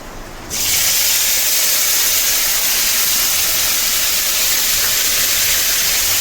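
Ginger paste drops into hot mustard oil and bursts into a sudden, loud hissing sizzle that holds steady and close, with no talking.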